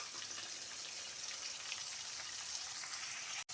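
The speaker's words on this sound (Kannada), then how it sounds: "ಇದು ಫ್ರೈ ಆಗ್ತಾ ಇರಲಿ" Fenugreek leaf pulao masala frying in a pan, a steady dense sizzle and crackle holding at an even level throughout before cutting off abruptly at the very end.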